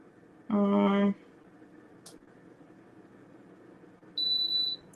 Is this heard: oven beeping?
yes